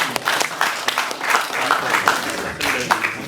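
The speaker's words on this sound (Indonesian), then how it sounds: "Oke, diberi aplaus." Audience applause at a Salatiga mayoral candidate debate, a steady wash of many hands clapping in a hall, moderately loud and sustained throughout with a few sharper individual claps standing out.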